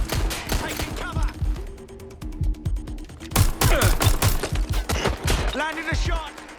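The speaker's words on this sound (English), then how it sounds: "Shots fired!" Bursts of gunfire in Watch Dogs: Legion, loud sharp shots and rapid volleys crackling in irregular clusters over game sounds, with a character's voice breaking in near the end.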